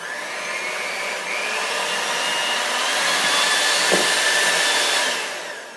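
An electric mixer whips egg whites on high for coconut macaroons, a loud, steady whirring hiss that holds level before tapering off, with no talking.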